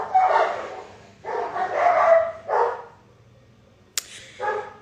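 A dog barks in several bursts at close range, loud and repeated, with a short sharp yip near the end and no talk over it.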